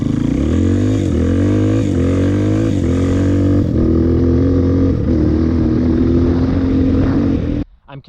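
A dirt bike engine runs loud and close as the rider shifts up through the gears without using the clutch, its steady drone stepping in pitch at each shift before cutting off abruptly near the end.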